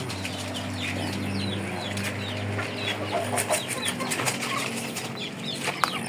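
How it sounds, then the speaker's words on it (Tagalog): Chickens cluck and call softly nearby, with some wing flapping and scattered farmyard rustling throughout. "iba-ibang klase ng mga manok"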